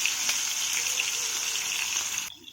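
Tandoori chicken pieces coated in homemade masala fry in plenty of oil, giving a steady, close, bright sizzle with crackling pops that runs evenly and then cuts off abruptly near the end.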